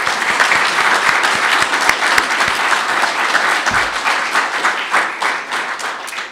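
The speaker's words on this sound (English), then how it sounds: "I'd like to give her a little round of applause" Sustained applause from a gathered audience at a Fulbright anniversary celebration in Ireland, dense and close with many hands clapping steadily, tapering slightly toward the end.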